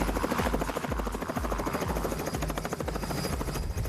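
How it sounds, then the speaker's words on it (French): Helicopter in flight at close to 200 km/h, heard from inside or close by: a loud, steady rotor chop with regular thumping beats over a continuous turbine whine, no speech. "L'hélicoptère, lui, permet de se poser n'importe où, d'être très flexible, d'être très souple."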